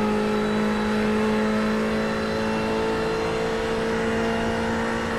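A Ferrari GT3 race car engine in a racing video game at Watkins Glen pulls hard under acceleration, a loud, steady high-pitched drone with a whining tone that holds for several seconds without a break.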